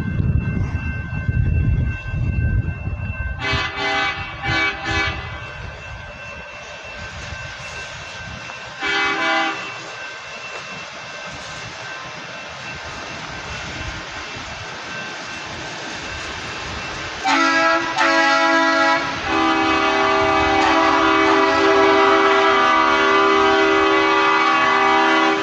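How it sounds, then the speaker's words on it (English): A railway maintenance vehicle rolls past on the tracks, its rumble building close and loud, with several short horn blasts early on and a longer sustained horn blast near the end. "It's some sort of maintenance vehicle."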